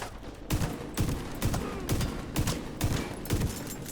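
Shotgun blasts in a video game, about eight heavy booming shots fired in a steady rhythm roughly half a second apart, loud and close.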